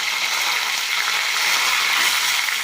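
Green chillies and curry leaves frying in hot oil, a loud, dense, continuous crackling sizzle with no pauses and no talking.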